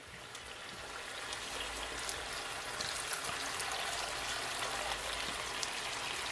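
Boiling water is poured into a bowl of chicken seasoning for Jamaican brown stew chicken, a steady hissing splash that swells slightly and holds for several seconds with no speech.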